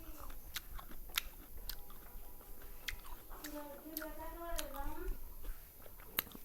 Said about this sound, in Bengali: লবণ দিয়ে মাখিয়ে লবণ দিয়ে মিশিয়ে খাচ্ছি